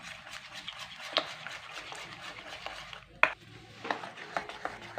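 A spoon mixing egg and flour batter in a bowl, soft scraping and stirring with two sharp clinks of metal against the bowl, fairly quiet and close.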